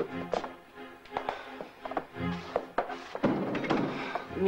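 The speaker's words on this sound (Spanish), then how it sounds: "Cierra la puerta y siéntate." An office door is shut during a tense Spanish-language drama scene, part of a sequence of soft wooden thunks and taps, close by and moderately loud, with muffled movement around them.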